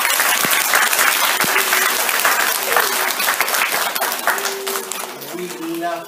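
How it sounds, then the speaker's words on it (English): A school audience at a reception class music performance gives a loud, sustained round of applause for the music teacher. Some voices and faint tones are audible under the dense clapping. "Give her a round of applause."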